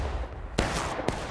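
Gunfire in the War of Rights multiplayer game: two sharp, loud shot cracks about half a second apart rise over a constant dense battlefield din.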